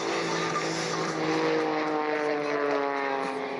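A stock propeller airplane drones steadily and loudly overhead at an airshow, its engine hum constant throughout with no voices.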